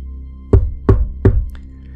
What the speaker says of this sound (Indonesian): ada yang ketok pintu malam-malam di desa pas kabut